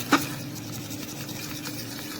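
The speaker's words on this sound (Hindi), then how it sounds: "इसको अच्छी तरह करना है ताकि एग वाइट एंड योक जो है वो अच्छी तरह से मिल जाए आपस में" Egg white and yolk being beaten together with a knife in a bowl, a soft continuous stirring and rubbing with one sharp clink near the start, close and quiet.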